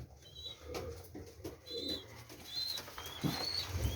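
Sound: domestic pigeons in a loft, hen with two young

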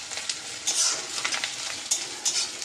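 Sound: chicken being cooked in a pan

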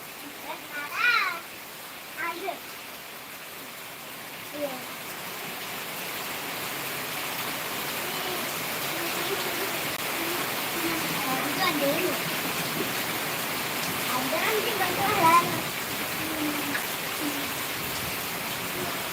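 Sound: rain falling

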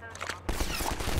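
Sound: machine gun fire in video game Half-Life 2

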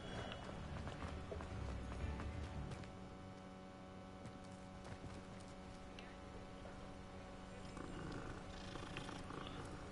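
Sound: cat purring while being petted in Hogwarts Legacy video game

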